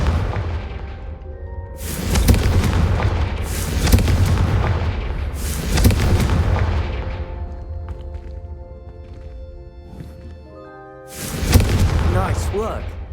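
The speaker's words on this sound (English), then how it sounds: "Have a go at those candelabras." Confringo fire spells in Hogwarts Legacy slamming into candelabras, several loud booming blasts at roughly two-second intervals, each with a rumbling tail, a brief pause, then one more heavy blast, with some character dialogue mixed in.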